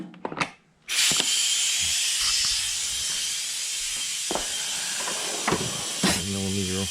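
Compressed air from a connected air line hisses loudly and steadily during a Stella espresso machine rebuild, after a few brief clicks. The hiss stays close and continuous, with faint handling noises and a short voice near the end.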